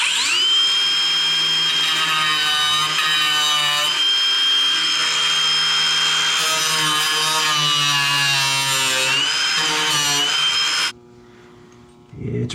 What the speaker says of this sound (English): Now let's hope I don't fully mess it up with the angle grinder.